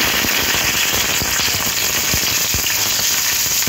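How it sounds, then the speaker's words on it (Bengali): Onions fry in white oil, a loud, steady, close sizzle with crackling spatters running the whole way through. "এবার এই তেলের মধ্যে পেঁয়াজগুলো হালকা ভেজে নেব।"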